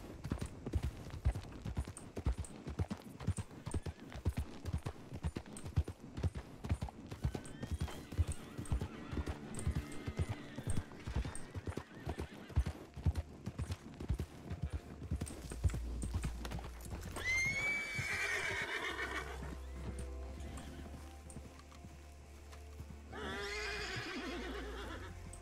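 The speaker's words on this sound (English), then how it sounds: "Those horses are already lined up" Horses in the Western roleplay game Red Dead Redemption (RedM) clop along in a steady rapid hoofbeat rhythm for most of the stretch, then two loud, shrill neighs ring out near the end over a low rumble.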